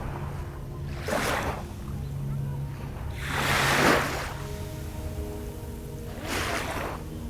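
Ocean waves on Sentosa beach roll in and wash up the sand in three soft, breathy swells spaced a few seconds apart. A gentle musical drone sits beneath them.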